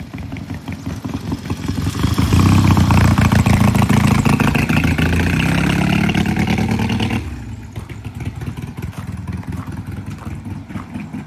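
A Triumph T100 motorcycle rides up after a test ride, its engine swelling loud and close with a revving pull, then dropping to a lumpy idle that keeps chugging alone.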